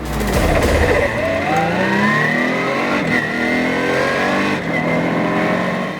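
Several Ginetta race car engines roar and rev up together at a race start, pitches climbing as they accelerate hard, loud and continuous.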